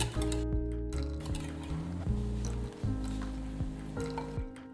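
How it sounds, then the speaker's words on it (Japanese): Beaten egg being stirred into an Italian pudding batter of cream cheese in a bowl, a soft, wet squishing and dripping that repeats steadily over a low steady hum. "その都度しっかり混ぜ合わせて乳化させます。"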